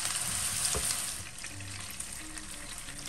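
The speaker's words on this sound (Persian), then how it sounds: "گوشتارم هر طرفشو بین 2 تا 3 دقیقه سرخ میکنم تا کاملا تغییر رنگ بده و برشته بشه." Minced meat kebabs frying in oil in a pan, a steady close sizzle and crackle that holds evenly throughout, with no voices.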